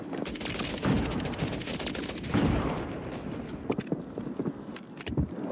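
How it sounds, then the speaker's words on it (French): Gunfire in a Warzone match, including a sniper rifle shot: rapid bursts of cracking shots with a few heavier reports, loud and close over a busy, noisy background. "Il lui a mis la balle de snipe."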